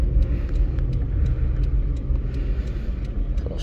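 Cars pass on the road around a driver, a steady low rumble of traffic with swelling engine noise heard from inside a car, no one speaking.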